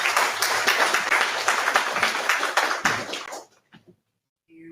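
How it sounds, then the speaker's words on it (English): A tech gathering audience claps loudly and densely for a few seconds, then the applause cuts off abruptly into near silence. "Let's give one more big round of applause for walking us through"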